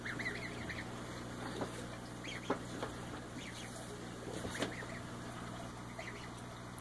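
Canada goose goslings peep in thin, high chirps scattered through the clip, with a few louder calls standing out over a steady low background hum.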